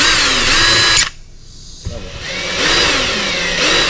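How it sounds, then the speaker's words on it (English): A power drill fitted with a countersink bit whines close and loud while cutting screw holes for a Jeep dash switch panel mount, briefly dropping off before spinning back up in a steady grinding drone. "with my countersinking bit installed, I will come back and countersink these holes a little bit"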